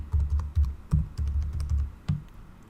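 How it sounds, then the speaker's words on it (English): Typing on a computer keyboard, entering a password: a quick run of close, crisp key clicks in short bursts with brief pauses, ending in a few isolated presses. "Here I'm gonna type password, and here I'm gonna confirm password."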